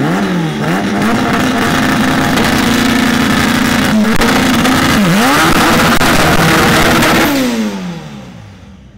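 A 4th gen Honda Civic drag car does a burnout at a dragstrip, its engine roaring loud and close with repeated revving surges and pitch swoops before the sound fades away.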